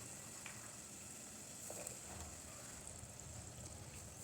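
Spices fry in a pan for a quick egg biryani, a soft, steady sizzle that stays faint and even with no talking.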